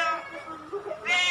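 A cat at a cat village in Ranau, Sabah meows twice in quick succession, close and loud, with a drawn-out plaintive tone and no talk.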